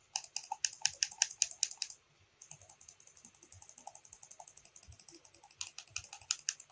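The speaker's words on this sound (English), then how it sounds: "I'm again using keyboard shortcuts." Computer keyboard shortcuts typed during a Photoshop graphic design session: two runs of quick, crisp key clicks, close and clear, separated by a short pause.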